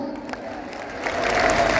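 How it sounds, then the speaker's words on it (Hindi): A large crowd at a Hindu religious gathering in Jodhpur breaks into applause, a dense patter of clapping that swells louder toward the end, with no speech over it. "जोरदार ताली बजा करके इन कट्टर सनातनियों को धन्यवाद दो।"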